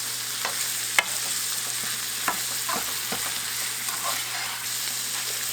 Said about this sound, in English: I'm going to add my tomato sauce